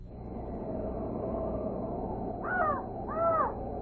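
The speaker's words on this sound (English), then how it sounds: "I only hear a raven croaking." A raven croaks twice in quick succession, harsh and fairly close, over a steady low background hum in a radio drama sound effect, with no voices during the calls.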